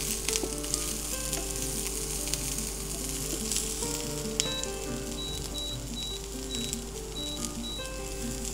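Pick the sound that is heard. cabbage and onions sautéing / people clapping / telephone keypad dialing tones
cabbage and onions sautéing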